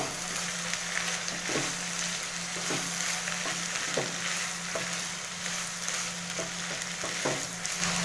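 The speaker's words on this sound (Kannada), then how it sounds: "ಅರಿಶಿನ ಹಾಕಿ ಚೆನ್ನಾಗಿ ಮಿಕ್ಸ್ ಮಾಡ್ಕೊಳ್ಬೇಕು" Beans and mixed vegetables fry in a pan with turmeric for a green gram palya, a steady close sizzle running throughout while a spoon scrapes and taps the pan in a loose, repeated stirring rhythm.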